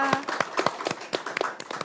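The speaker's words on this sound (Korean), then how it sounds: "박수 부탁드립니다." At a university vision talk, a small audience gives brief, loose applause in a hall, with scattered individual claps rather than a full roar, close and fairly soft.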